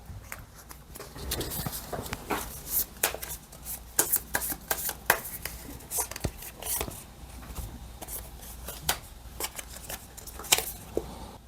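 A single tarot message card drawn from the deck, heard as soft card shuffling and sliding with crisp papery flicks and taps scattered through the clip, close and fairly quiet, with no voice.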